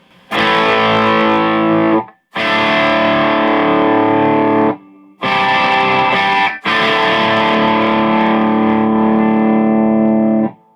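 Heavily distorted electric guitar chords through a Marshall MG100DFX amp with no reverb, played in four long, loud bursts, cutting off abruptly between them with a dry, reverb-free sound.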